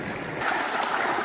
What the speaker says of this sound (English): This creek zigzags through the canyon.